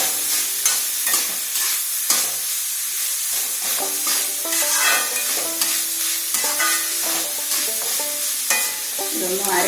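Chopped onions sauté in a pan for a Kerala chicken roast, a close, steady sizzle with repeated scraping stir strokes and clinks of the spatula throughout.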